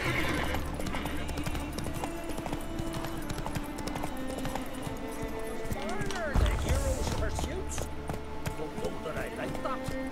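Rapid hoofbeats of galloping horses in the video game The Witcher 3: Wild Hunt clatter continuously, mixed with game music and a brief whinny, busy and fairly loud.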